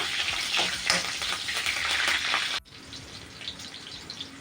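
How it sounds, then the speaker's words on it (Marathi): Slit green chillies fry in hot oil with a crackling, bubbling sizzle close to the pan, loud for about two and a half seconds before dropping abruptly to a softer, steadier frying hiss. "तेल गरम झालेलं आहे त्यामध्ये आपण आता हे उभ्या मिरच्या चिरून घेतल्या त्यासाठी तेलामध्ये मिरच्या जरा भाजून घ्यायच्या आहेत"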